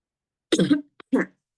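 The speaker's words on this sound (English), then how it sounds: "I still got this cough thing" Two quick throaty coughs, close and fairly loud, separated by a brief pause, with silence around them.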